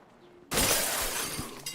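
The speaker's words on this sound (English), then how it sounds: "They heard the fucking glass break" Glass shatters loudly in a zombie survival game, a sudden bright crash with a crackling tail of falling shards, followed by a brief low thud and a faint clink near the end.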